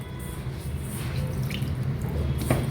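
Water poured a little at a time onto rice flour for puttu, heard as a soft, close trickle with faint drips, quiet and with no talk.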